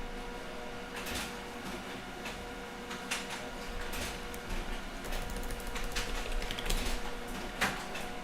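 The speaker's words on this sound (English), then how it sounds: "so the printer just turned on for some reason." A printer powers on by itself and runs, giving a steady mechanical whir with repeated sharp clicks and clatters that grow somewhat louder over several seconds, with no talking.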